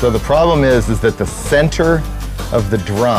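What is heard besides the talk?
No distinct noise like a dog, phone or traffic.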